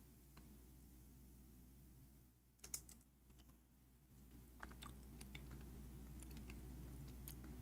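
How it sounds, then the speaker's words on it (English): Light typing clatters on a faulty computer keyboard that fails to switch, with irregular soft key taps and a brief louder burst of clicks, close by and quiet, with no speech. "There is something wrong with this keyboard. It's not switching."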